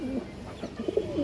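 A pair of Kaldom pigeons coo in soft, low, rolling phrases, several short calls close by with a faint background hum and no talking.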